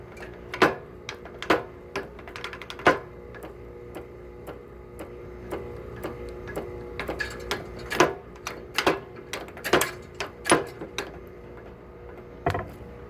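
Rebuilt punch press ram cycling down and up: a steady motor hum under repeated sharp mechanical clacks and ticks in an uneven rhythm, near and moderately loud.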